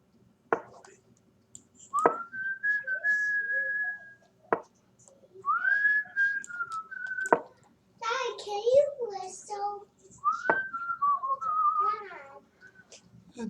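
A person whistles a few rising and sliding tones in short separate phrases, with sharp clicks and some soft voice or breathy noise between them, indoors and fairly quiet.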